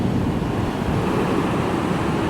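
Cold ocean waves washing onto the coast, a loud, close, continuous roar of surf mixed with wind rushing across the microphone.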